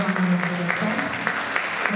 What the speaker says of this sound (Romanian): Vă rog foarte frumos să-i aplaudați.